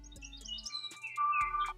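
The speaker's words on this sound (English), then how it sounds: "I like those bird sounds." A bird-song ringtone called Flush of dawn plays from a DOOGEE Note 58 phone, bright chirps and tweets in quick succession ending with a sustained whistled note, clear and close with no talking.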